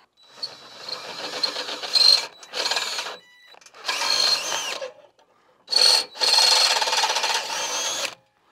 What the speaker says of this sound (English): Now we'll drill it out.